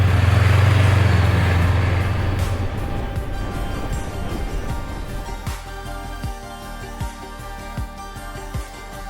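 Vehicles squeeze through tiny, crowded streets on a small volcanic island in North Maluku, Indonesia: a loud engine rumble up close fades into a busy mix of traffic and street noise with scattered knocks and clatter.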